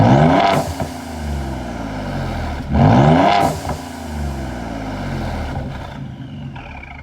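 A car exhaust fitted with aFe equal-length catless downpipes, heard from outside the car: two sharp revs rise and fall, each followed by a rumbling idle that settles down, moderately loud with no voices.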